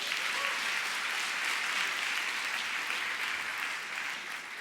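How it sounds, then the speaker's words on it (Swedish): A dense, steady round of applause from a crowd at a stage show, sustained throughout and easing off slightly at the end. "En applåd för Lisa."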